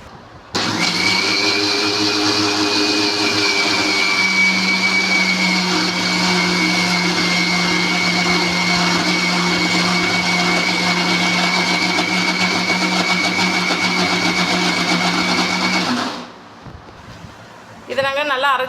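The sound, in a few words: mixer grinder grinding soaked urad dal into paste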